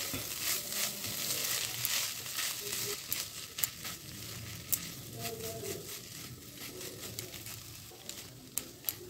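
A pan of food for a tiffin snack cooks over a low to medium gas flame, giving a steady soft sizzle with light crackles and occasional stirring clicks, fairly quiet and close with no talking.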